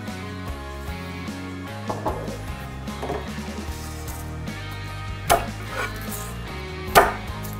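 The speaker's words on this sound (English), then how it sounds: "we're gonna thinly slice a half head of red cabbage" Knife slicing half a head of red cabbage thinly on a board, a run of quick, uneven crisp cuts with several sharper, louder chops near the end, close and with no talking.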